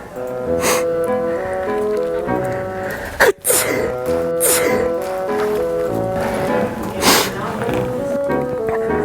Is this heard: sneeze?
yes